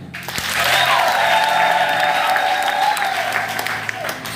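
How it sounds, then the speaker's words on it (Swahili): A church congregation at a revival service breaks into loud, sustained applause that swells quickly and holds, with a few shouts and voices ringing above the clapping. "Ongeza makofi"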